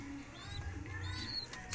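Soft pigeon coos and faint bird calls sound close by, brief and low, over a quiet background hum.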